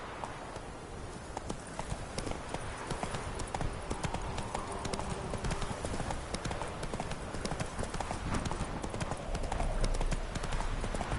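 Horse hooves gallop in The Witcher 3, a dense, steady clatter of hoofbeats running continuously and fairly close throughout, with no talk over them.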